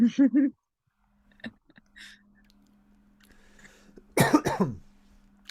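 A quick burst of coughs at the start, then near silence, followed by a louder, harsher run of close-up coughing near the end.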